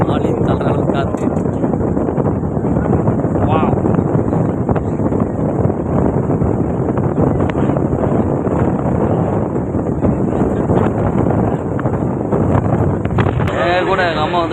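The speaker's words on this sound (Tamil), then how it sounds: "காற்று எப்படி அடிக்குது பாருங்கள். ஆளி தள்ளுற காற்று." Strong wind roars across Pamban bridge at Rameswaram, buffeting the microphone in a continuous, heavy rush throughout, while a voice talks over it.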